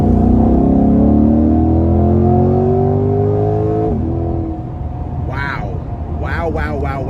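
A 2022 Chevrolet Corvette C8 Convertible 3LT Z51 accelerates hard onto an interstate, heard loud from inside. The engine note climbs steadily, then drops at a gear change and keeps pulling, with a voice talking over the last seconds.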